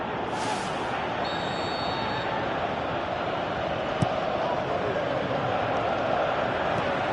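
A stadium crowd in a PS4 football video game roars as a steady, dense wall of noise throughout, with no break or swell.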